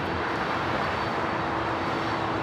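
A Boeing 747 built as a freighter, taxiing or passing at LAX, gives a steady, broad jet engine roar with a faint tonal whine, constant and fairly loud with no talk.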